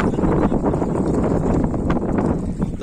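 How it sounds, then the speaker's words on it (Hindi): Wind blowing outdoors at a fairly loud level, a rough, gusty rumble buffeting the microphone with rustling throughout, with no speech over it. "तो हवा चल रही है भाई थोड़ी सी"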